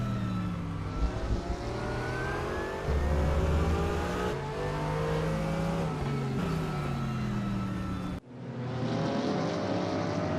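Racing car engines in an esports sim race at the Hungaroring, a steady loud drone of high-revving motors with shifting pitch, continuous throughout, with a sudden brief dip near the end before the roar resumes.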